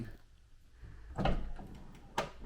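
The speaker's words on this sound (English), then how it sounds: "So a soft close, for those that you haven't seen this on the Defender." Land Rover Defender L663 tailgate closing under its soft-close motor, two muffled thuds with a faint mechanical whir between them, close by and without speech.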